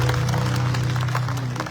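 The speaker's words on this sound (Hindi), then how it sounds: "मेरे तरफ से भी इसके लिए तालियां बजाइए" A crowd at a political rally in Gurugram gives a brief burst of applause. Close clapping rattles over a loud, steady low hum for under two seconds.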